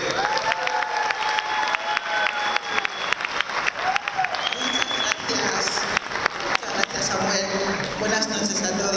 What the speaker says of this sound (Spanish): pido un fuerte aplauso para Pamela Nze.